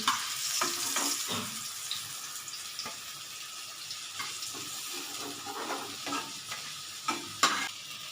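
Young banana flower fritters (mochar bora) frying in hot oil, a steady close sizzle broken by sharp scrapes and taps of a spatula turning the pieces.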